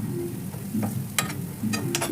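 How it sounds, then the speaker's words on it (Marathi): Sliced onions frying with spices in a hot pan, a steady close sizzle with occasional scraping stirs. "हे सगळे मसाले घालून कांदा छान परतून घ्यायचा आहे"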